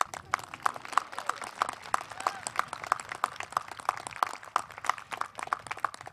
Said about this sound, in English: Congratulations, graduates. We can clap.